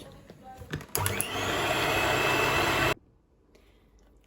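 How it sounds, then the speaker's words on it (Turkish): An electric mixer whisks cocoa cake batter for cone cakes until smooth: a steady, loud whirring drone runs for about two seconds and then cuts off abruptly, leaving faint clinks and quiet room sound. "pürüzsüz bir kıvam alıncaya kadar tekrardan çırpıyoruz."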